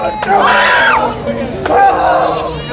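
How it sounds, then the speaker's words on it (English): Wrestling crowd at an American lucha-style show reacting to an open-handed chop, a loud collective ooh swelling and fading, then a second surge of crowd voices moments later, with sharp impact cracks among them. "the crowd oohing and ahhing with every single attack"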